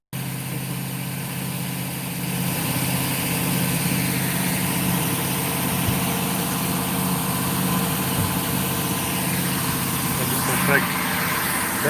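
An engine, the first of two being cranked, settles into a steady, loud, even idle for the whole stretch, low rumble constant and unbroken close to the listener.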